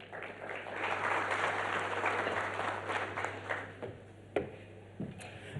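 Audience applause at a business breakfast meeting, a sustained crowd clapping that swells, then thins out into a few scattered claps and sharp single claps near the end, moderately loud in a room with a low steady hum.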